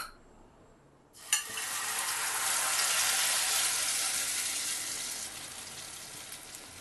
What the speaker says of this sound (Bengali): এবার আমি ব্যাটারটা ফ্রাইং প্যানের মধ্যে ঢেলে দেবো